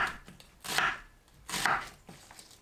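Two crisp cuts of a knife slicing a halved onion into thick slices on a cutting board, each stroke a short, close, crunchy thud with quiet pauses between.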